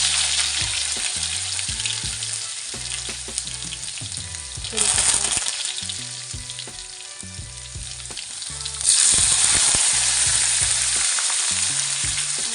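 Cumin, mustard seeds, garlic and ginger sizzle in hot oil for a cauliflower and potato dish, a steady close frying crackle with brief stirring clatter and louder bursts as more goes into the pan, no talk.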